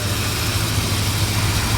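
A 1966 Chrysler Imperial convertible with a 440 engine and original carburetor idles up close, a loud, steady low rumble with an even pulsing throb throughout.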